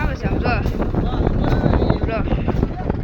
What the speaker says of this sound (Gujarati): મસ્તીનો પવન આવે છે આમ જો